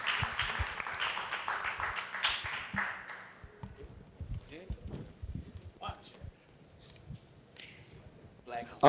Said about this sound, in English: please give a round of applause for Sis45, Executive Director of 200 Male Le